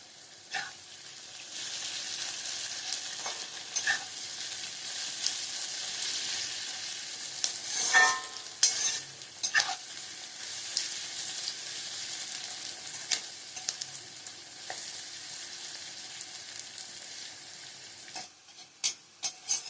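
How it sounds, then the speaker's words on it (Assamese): Onions frying in a pan with bay leaves, a steady close hiss of sizzling oil with occasional stirring scrapes and small pops throughout. "পিঁয়াজখিনি ভজা হৈ গৈছে।"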